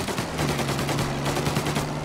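Rapid gunfire fills a police shootout at a roadblock in the video game Mafia Definitive Edition, with dense bursts of shots cracking continuously and loud from start to finish, no voices over it.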